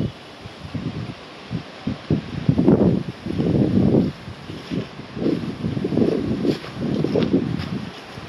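Gusty wind blowing through a valley, rumbling and buffeting against the microphone in uneven surges that rise and fall over several seconds, with no talk.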